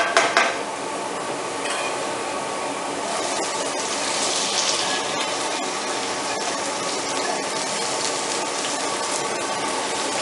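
Beans added to a hot pan and stirred while cooking, giving a steady sizzle with scraping and clinking of a utensil against the pan, and no talking.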